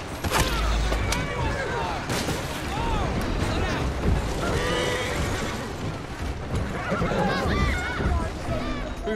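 Horse neighing in the video game Assassin's Creed Syndicate, a whinny with hoof clip-clop amid busy game ambience and talk, steady and fairly loud throughout.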